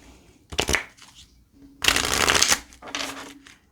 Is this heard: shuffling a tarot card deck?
yes